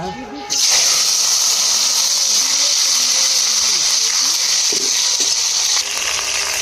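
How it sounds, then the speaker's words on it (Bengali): Dried red chillies and a bay leaf hit hot oil in a kadai, bursting into a loud, steady sizzle that holds on without a break, with a voice faintly beneath. "কড়ার মধ্যে তেল দিয়ে দেবো, শুকনো লঙ্কা ফোড়ন করবো, তেজপাতা ফোড়নে দেবো"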